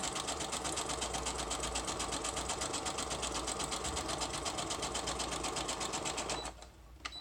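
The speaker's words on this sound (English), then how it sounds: "I'm just going to quickly sew that on." A sewing machine stitches lace onto a paper journal made from packing paper, giving a loud, fast, even mechanical rattle that runs steadily and then slows to a stop at the end.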